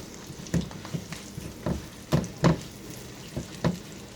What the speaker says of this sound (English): I'm sauteing these vegetables up.